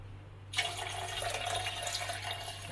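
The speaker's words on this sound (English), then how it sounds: "So pour the milk inside and please pour softly," Milk is poured gently into the ingredients for a bread dough, a steady close-up liquid stream that starts after a short quiet moment and runs on continuously with no talk.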